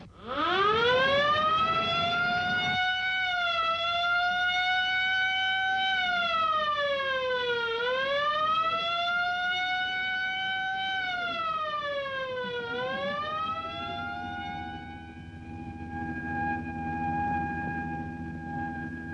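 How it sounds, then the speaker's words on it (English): A wartime air raid siren sounds a secondary alert across northwest Germany during World War II: one loud, sustained wailing tone that rises, then dips and swells twice, heard alone and steady throughout. "A secondary alert is sounded throughout northwest Germany."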